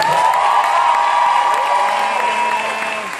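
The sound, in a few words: audience applause and cheering for cast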